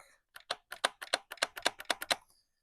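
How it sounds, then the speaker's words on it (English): The trigger of a Gameface Trion toy blaster is pulled repeatedly right next to the microphone, a rapid run of about a dozen sharp plastic clicks in quick irregular succession. "Very clicky trigger sound."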